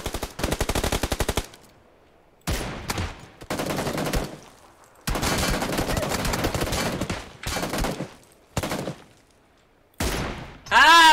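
Gunfire from PUBG Lite, including M24 sniper shots, comes in several loud bursts of rapid shots separated by short silences, with the last burst sharp and close.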